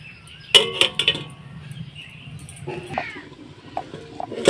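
A metal lid set down onto a cooking pot while mango is boiled at home for a homemade Frooti drink, sharp clanks and rattles near the start and scattered lighter clinks afterward, with no speech.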